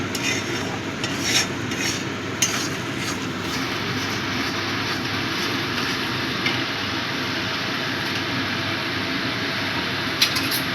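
Spice masala for chana masala being stirred and sautéed in a pan after hot water is added, a steady hissing simmer with a few sharp clicks and scrapes of the spoon.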